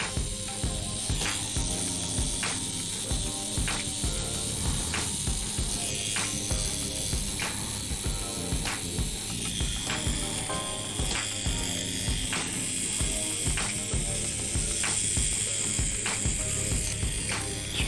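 A cordless, battery-powered tattoo machine runs steadily throughout, giving a continuous close mechanical buzz with a faint rhythmic ticking pulse and no talking.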